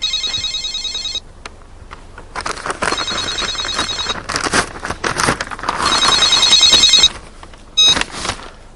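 A telephone rings with repeated electronic trilling bursts, loud and close, separated by crackly, clattering handling noise and brief gaps.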